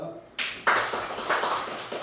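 A church congregation claps together during a worship service, a dense, steady patter of many hands that starts abruptly and carries on with slight swells, with speech mixed in.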